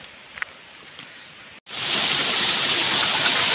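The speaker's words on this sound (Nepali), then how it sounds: "फाइनली सरीको खोला पुगिसक्यो।" A mountain stream rushes steadily at close range; after a brief near-silent gap the broadband flowing water swells and continues loud and even.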